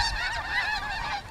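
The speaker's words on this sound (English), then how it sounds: "Snow geese are easy to identify." A flock of snow geese on the Fraser River Delta honks in a thick, continuous chorus of many overlapping calls, close and steady throughout.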